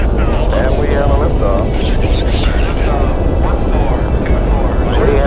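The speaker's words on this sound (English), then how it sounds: "We have a liftoff, 24 minutes after the hour." Gemini III Titan rocket lifting off at the 1965 launch, a loud continuous broadband roar filling the whole clip with voices and radio chatter over it.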